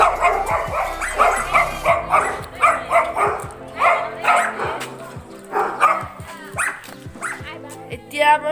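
Several dogs bark repeatedly at a house in Guwahati, loud and close, with rapid overlapping barks, yips and whimpers throughout, and voices mixed in at times.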